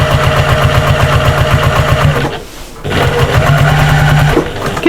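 A sewing machine stitches fabric with cream thread for a cross-body bag. The motor hums and needle pulses run fast and even, stop for about half a second partway through, then start again, loud and close.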